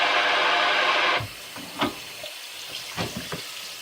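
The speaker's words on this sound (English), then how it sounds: "just filling it with water at the moment" Water from a tap pours steadily into a container for about a second, then stops, followed by a few scattered clinks and knocks of equipment being handled.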